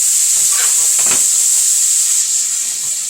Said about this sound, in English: So let's just saute them here